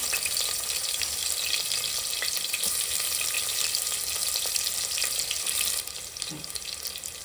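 Onion frying in a little oil for mutton head sambar, a steady loud hiss like running water that drops off suddenly near the end.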